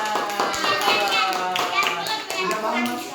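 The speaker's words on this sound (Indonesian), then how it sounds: "Oke, kita kasih tepuk tangan." A third-grade classroom applauds after a math answer, a quick burst of children's hand claps that rings out close and steady, with kids' voices mixed in.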